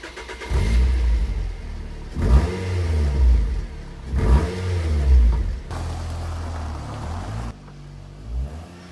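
A Ford Fiesta ST150 engine revs in repeated rising bursts while the car is moved and turned around on gravel. It is loud and close, with a lower idle between the revs.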